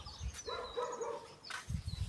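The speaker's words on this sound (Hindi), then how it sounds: "पता नहीं ऊपर कुत्ता क्यों भौंक रहा है इनका" A dog barks somewhere up the hill at a Himachal Pradesh village home, a few short yelps heard at a middle distance over bird calls.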